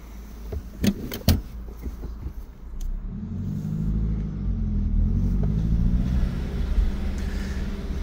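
A 2015 Subaru Crosstrek XV with a manual clutch driving, heard with the windows down: a few door or mechanical clunks come first, then a steady low engine and road rumble builds and holds.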